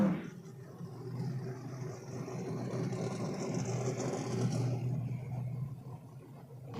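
A twin-turbo Audi drag car with HPT turbos does a burnout on a no-prep drag strip, producing a steady, loud engine roar with a high whine that eases off after about five seconds while the low rumble carries on.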